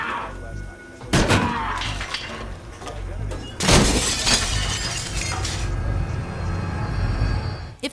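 Bathroom mirror glass shattering in a dramatic movie scene, with a sharp crash near the start and a louder burst of breaking glass midway, set over a loud, dense rumbling background.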